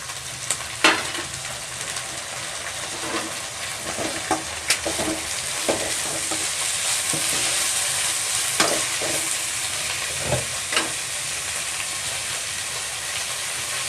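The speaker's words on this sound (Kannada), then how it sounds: "ಸೊಪ್ಪು ಈರುಳ್ಳಿ ಮೆಣಸಿನ್ಕಾಯಿ ಶುಂಠಿ ಬೆಳ್ಳುಳ್ಳಿ ಪೇಸ್ಟು ಈ ಥರ ಫ್ರೈ ಮಾಡ್ಕೊತಾ ಇದ್ದೀವಲ್ವ" Drumstick leaves frying with onion, green chilli and ginger-garlic paste in a village-style kitchen, a continuous close sizzle broken by scattered scrapes and knocks of stirring, with no talk.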